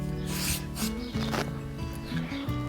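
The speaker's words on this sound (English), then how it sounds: "So I'm gonna go through and use a paintbrush and get all of the edges done." A paintbrush works sealer onto concrete edges in close, soft rubbing strokes, over a constant background of music.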